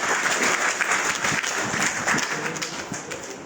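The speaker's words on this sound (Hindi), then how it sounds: "एक बार जबरदस्त ताली हो जाए डॉक्टर साहब के लिए।" Seminar audience breaks into sustained applause for the doctor, a dense wash of clapping that stays loud and even before slowly easing toward the end.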